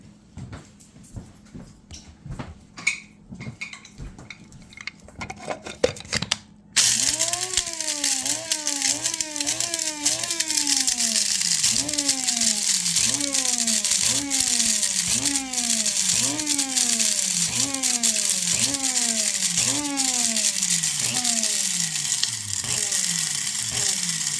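Whole spices, including cloves and a piece of cinnamon stick, are ground in a grinder. A loud, rhythmic grinding churn begins after a few seconds of quieter clatter and runs continuously with repeating pulsing cycles.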